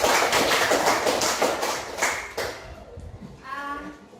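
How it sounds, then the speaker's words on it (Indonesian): A classroom of students claps hands in a fast, dense burst of applause for a couple of seconds, then it fades, and a voice is heard at the end. "Tepuk tangan untuk Feby."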